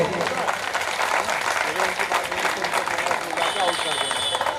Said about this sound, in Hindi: तालियां कमजोर है यार आप लोगों के।